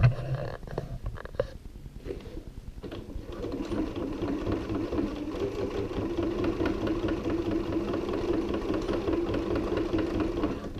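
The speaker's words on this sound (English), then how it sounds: "want to go in and just reinforce the handles with one more line of stitching" A sewing machine runs steadily while stitching over tote bag handles to reinforce them, a fast even whirr after a few brief starts and stops, close and loud.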